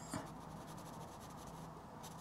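A stiff paintbrush rubs paint on paper while a goat in a meadow is painted from a photo. It makes a soft, faint, continuous scratchy scrubbing close up, with one sharper stroke near the start.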